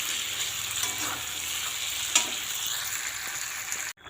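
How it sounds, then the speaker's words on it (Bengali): Vegetable curry in a pan as water is added, giving a steady, dense sizzle and bubbling that holds level throughout before cutting off abruptly, with no voices. "এখন আমি এর মধ্যে কিছুটা পরিমাণে জল দিয়ে দেবো"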